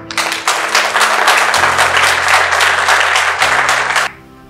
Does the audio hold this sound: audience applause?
yes